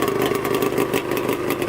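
A custom 110 HP Yamaha Banshee quad engine running close and loud, a steady rough buzzing drone with a raspy, clattery edge throughout the short burst.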